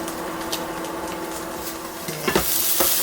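Kimchi fried rice topped with mozzarella cooks in a covered pan, giving a steady low sizzle and hiss throughout, with a brief clatter of the lid or utensil near the end.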